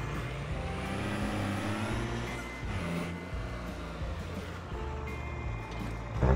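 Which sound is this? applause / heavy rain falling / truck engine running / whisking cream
truck engine running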